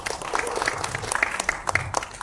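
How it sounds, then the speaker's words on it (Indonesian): Applause breaks out during a regional coordination meeting on community learning programs in East Java, a short burst of scattered clapping from a room of attendees, moderately loud with uneven rhythm. "Tepuk tangan dulu."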